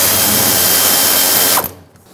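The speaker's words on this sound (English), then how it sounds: "You can use an 8mm socket and loosen them all up" An 8mm socket ratchet loosens hose clamps on the fuel pump of a 1999-2007 Ford F-350 with the 7.3L Powerstroke, a loud, steady run of rapid clicking that stops abruptly near the end, leaving quiet.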